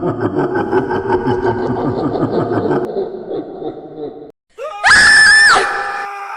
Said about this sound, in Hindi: उस रात हवेली के अंधेरों में अजय और पूजा की चीखें गूंज उठीं